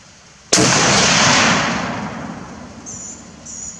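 A single sharp rifle shot from an FN 1950 Mauser carbine in .30-06, loud and close, with a long decaying echo rolling out afterward and faint high chirps near the end.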